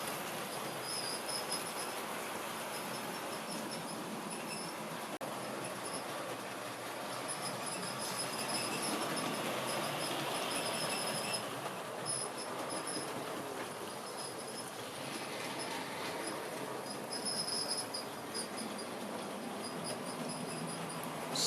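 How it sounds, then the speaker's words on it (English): An Ivatt Class 2 MT model locomotive runs on an East Anglian model railway layout, giving a steady, faint mechanical whirr and rolling rumble with soft high-pitched squeals, continuous throughout and with no talking. "another locomotive that ran on the eastern region in East Anglia, an Ivatt Class 2 MT"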